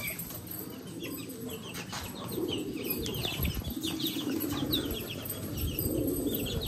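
Black pigeons flap their wings in bursts of soft, rustling beats, close by, over a steady background hum with faint bird calls and no talking.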